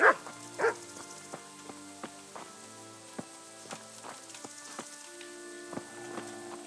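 A dog barks in the medieval role-playing game Kingdom Come, with a few sharp, close barks at the start and then scattered clicks and taps over a steady, soft ambient background.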